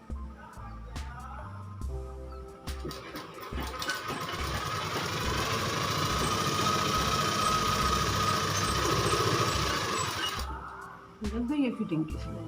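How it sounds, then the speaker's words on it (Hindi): Sewing machine stitching along the fitting marks of a ladies' shirt seam, a close steady whirring run of several seconds, with short bursts before and after and a person talking around it. "फिटिंग के निशान है इनके ऊपर से ही सिलाई चलेगी हमारी।"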